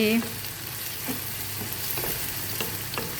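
Onions frying in a pan on a gas stove, a soft steady sizzle with a few light stirring scrapes and clinks, close and fairly quiet, with no talking.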